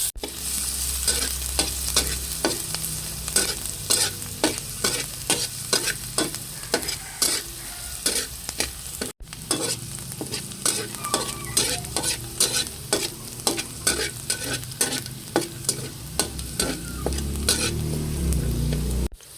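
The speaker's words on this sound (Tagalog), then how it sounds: "ako po ay magigisa na. Ilalagay ko na po itong bawang at sibuyas" Garlic and onion sauté in a pan under a steady sizzle, with rapid, rhythmic stirring scrapes throughout and a short pause midway.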